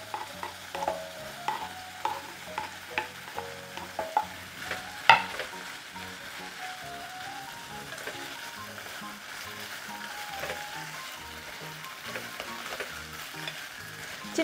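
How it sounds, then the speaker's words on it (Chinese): Meat and onion stir-fried in oil for a spicy soft tofu stew, with crisp sizzling throughout and rhythmic spatula clanks against the pan in the first half, one sharp louder knock near the middle, then steadier frying. "先把肉煸炒一下， 洋葱、香锅也放进去。"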